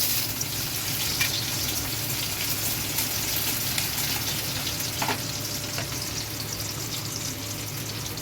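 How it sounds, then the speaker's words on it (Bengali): Chopped onion frying in white cooking oil in a hot wok gives a steady, close sizzle with soft crackles that runs evenly throughout, with no voices. "কড়াইটা গরম হয়ে গেলে পেঁয়াজ কুচি দিয়ে দেবো।"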